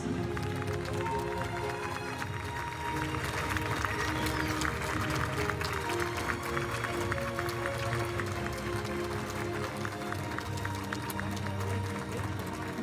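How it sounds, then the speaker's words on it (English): Applause from spectators at the FIH Hockey Women's Nations Cup final in Chile, honouring Team Ireland's silver medal, a steady dense patter with crowd noise beneath, moderately distant and sustained throughout. "Another applause."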